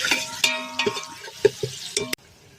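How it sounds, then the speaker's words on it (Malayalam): A spoon stirs onions in a pan of hot oil left over from frying chicken, giving repeated metallic scrapes and clinks over a soft sizzle, close and alone, ending in quiet. "ചിക്കൻ ഫ്രൈ ചെയ്ത എണ്ണ തന്നെയാണ് കേട്ടോ എടുത്തിട്ടുള്ളത്. അതിലേക്ക് സവാള ഇട്ട് ഇളക്കി കൊടുക്കുക."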